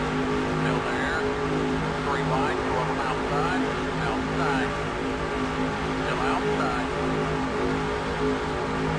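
Stock cars in a 2004 Busch Series NASCAR racing game at the Hershey's Kisses 300 drone continuously at high revs, a dense engine roar with a pack running close together, while a commentator talks over it.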